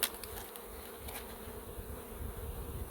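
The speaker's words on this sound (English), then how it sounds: "Look, there are bees in here." A low steady buzz of bees inside an opened nuc box, close and faint, with a few brief taps or knocks near the start.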